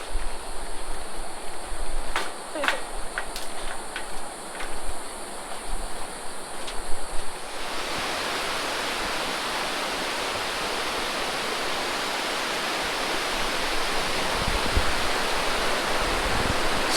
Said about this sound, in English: So this is the Serpentarium River. It kind of meanders all through the property here